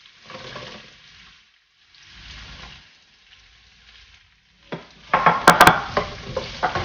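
Onions with green chilies sautéing in oil in a pan, soft sizzling hiss in short stretches, then louder stirring scrapes and clinks against the pan near the end.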